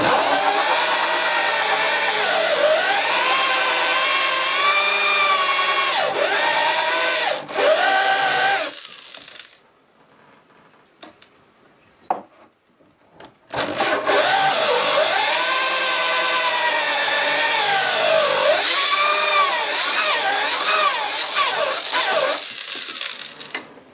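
A hole saw bores into a test piece of wood, a loud grinding whir with wavering pitch that runs, pauses for a few seconds of near silence with brief taps, then resumes and continues.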